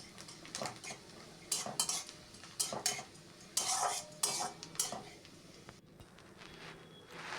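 Coconut pieces fry in a pan while a metal spoon stirs them, producing repeated scraping clanks in irregular bursts over a faint background sizzle.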